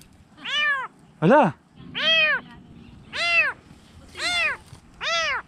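Six loud, distinct cat meows come one after another with short gaps, each a clear rising-falling cry, heard up close; a brief voice speaks between them.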